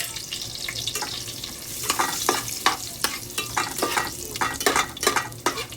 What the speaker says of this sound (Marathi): थोडेसे आधी काजू बदाम मी थोडं तुपात फ्राय करून घेते.